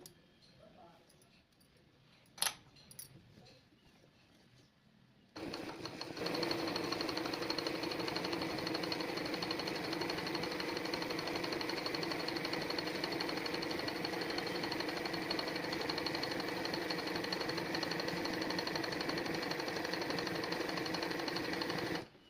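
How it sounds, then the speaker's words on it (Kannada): Sewing machine running a straight running stitch around a curved embroidery design, starting after a few seconds of quiet with a couple of faint clicks, then whirring loudly and steadily at close range without a break. "ನೋಡಿ ಈಗ ರನ್ನಿಂಗ್ ಸ್ಟಿಚಲ್ಲಿ ಹಾಕೊಂಡಿದ್ದೀನಿ"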